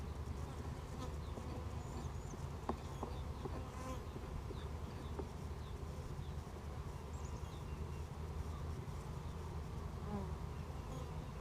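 Honey bees buzz during a hive inspection among wax-laden frames, a dense, continuous drone of many insects close by with individual bees flying past, steady and fairly quiet throughout.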